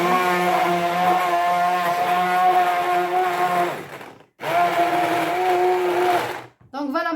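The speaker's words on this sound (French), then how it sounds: "je viens tout simplement mixer avec le blender, avec le mixeur" Electric blender whirring loudly at a steady high pitch while mixing a chickpea and banana smoothie, pausing briefly, running again, then cutting off.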